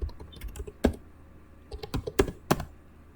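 Quick, irregular keystrokes on a computer keyboard as a password is entered, a handful of crisp taps clustered in short bursts with pauses between, close and fairly quiet.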